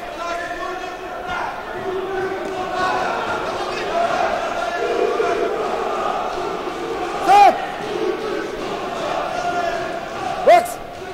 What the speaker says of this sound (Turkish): Samet tezahüratları bir kez daha başladı Cafer Spor salonunda